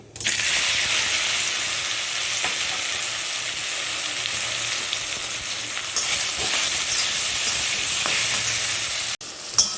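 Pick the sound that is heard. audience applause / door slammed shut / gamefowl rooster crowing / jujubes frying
jujubes frying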